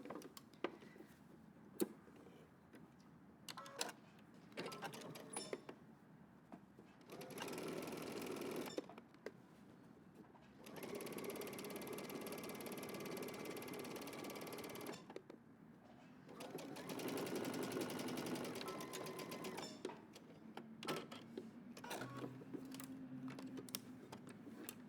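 A sewing machine back stitches on a shirtdress in several short bursts of motor hum separated by quiet gaps, with small clicks and handling noises between runs.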